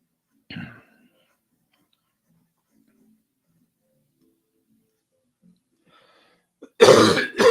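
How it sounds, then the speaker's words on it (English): A single throaty cough, then a long quiet stretch before a louder, rougher burst of coughing or throat clearing at the end. "I'm coughing up a storm all of a sudden"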